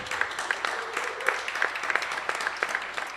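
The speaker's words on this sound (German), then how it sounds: "Und ein Applaus natürlich auch, ist hier sehr gerne gewünscht." Audience applause welcoming a cabaret performer on stage, a continuous wash of many hands clapping with sharper individual claps standing out, steady and moderately loud.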